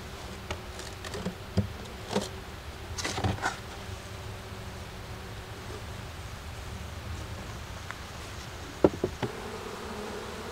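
Honeybees buzz steadily inside an open hive, a dense close drone with occasional louder bees passing near and brief handling knocks and taps over the hum.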